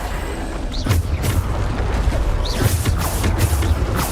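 Descendo spell slams in Hogwarts Legacy, repeated deep booming thuds and crashes with whooshing bursts, loud and dense amid ongoing combat effects.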